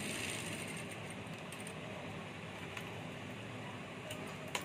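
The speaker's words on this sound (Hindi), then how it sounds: "इसकी एक साइड पर सिलाई लगा लेनी है।" A sewing machine stitches along one side of a pair of children's shorts, giving a steady, continuous mechanical whir that runs unbroken at moderate loudness with faint ticking on top.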